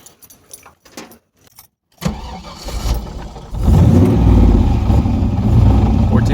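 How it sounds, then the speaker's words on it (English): An LS-swapped car with a one-wire alternator: faint key jingles and clicks, then a starter cranks briefly and the V8 engine catches and settles into a loud, steady, close idle. "Now I'm gonna start the car."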